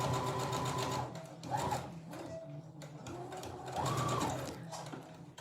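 A domestic sewing machine stitches fabric for a door stop and draft excluder, running in steady whirring bursts with brief pauses between them, close and fairly loud, with no speech.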